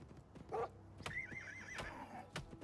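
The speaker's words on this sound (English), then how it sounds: "Quit attacking my fucking horse." Horse in a video game neighs in a rising, wavering whinny while wolves attack it, with hoof clip-clops and sharp thuds around it at moderate volume.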